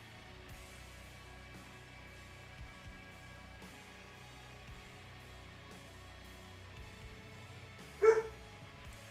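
Over a low, steady room hum, one brief dog bark pops up sharply near the end, alone and moderately close.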